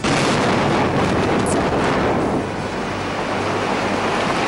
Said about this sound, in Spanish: Son distintas, todas distintas explosiones en distintos momentos y circunstancias.